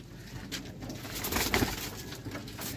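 Pigeons of the Mian Sahib 79 and Master Abdullah lines coo in low, rolling calls that swell and fade over a few seconds, close by, with no speech.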